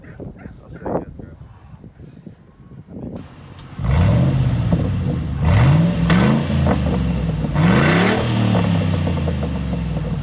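Ford 4.6L Triton V8 with the muffler deleted revving hard, rising and falling throaty blips that start around four seconds in after quieter talk and a dog's bark, the engine loud and close.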